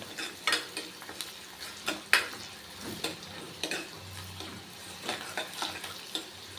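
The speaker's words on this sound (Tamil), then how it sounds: "ஓரளவு இது வதங்கினா போதும்." Green chillies sautéing in a pan, a soft sizzle under repeated scrapes and clinks of a spoon stirring against the pan, fairly close and quiet.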